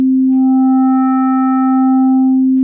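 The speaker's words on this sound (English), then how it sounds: "we allow the shape control on a sine wave to add harmonics" A steady synthesizer sine wave with odd harmonics added by a shape control, holding a strong fundamental at constant pitch and loudness for nearly three seconds, with no talking.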